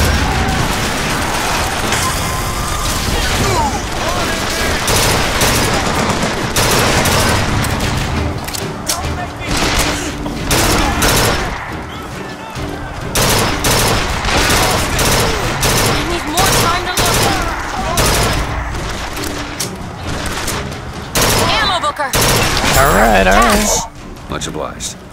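Burst gun fire in the video game Bioshock Infinite, dense repeated volleys of shots running through a busy game mix, with a voice talking over much of it.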